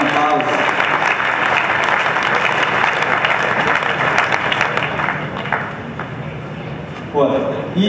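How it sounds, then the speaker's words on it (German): Audience applause for exhibitors at a cattle show championship, a dense steady clapping that fills most of the span, thins out near the end, and then gives way to a voice speaking. "Bitte einen Applaus für alle Aussteller"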